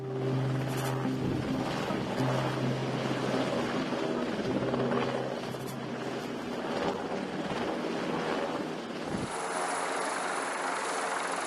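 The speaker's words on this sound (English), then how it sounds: "This method uses helicopters equipped with cargo hooks and netting to move supplies from one ship to the other" A cargo helicopter's rotor chops and engine whine continuously nearby while moving supplies between ships at sea, with wind and water-like noise beneath; the pitch shifts near the end.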